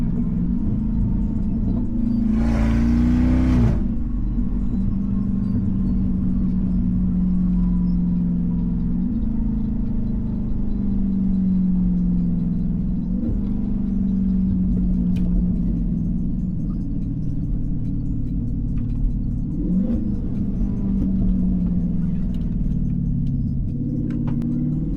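A Chrysler 300 Scat Pack with an engine swap cruises early in the morning, its engine a steady low rumble from inside the cabin, with one brief louder swell near the start and small shifts in pitch.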